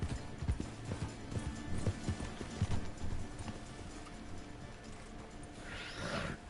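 Horses gallop in Red Dead Redemption 2, a steady drumming of hooves under a busy game soundscape, with a brief whinny or rising call near the end.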